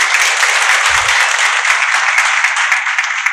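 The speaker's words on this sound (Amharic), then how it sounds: "አጨብጭቡላት" A church congregation at an Easter gathering applauds a child's answer, with steady, dense clapping from many hands filling the room and continuing loudly throughout.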